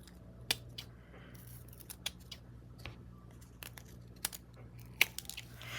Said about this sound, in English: I'm going to go and trim any edges that I have.